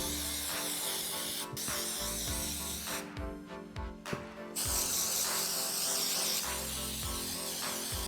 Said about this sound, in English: I'm going to give them a really, really good spray of this mink oil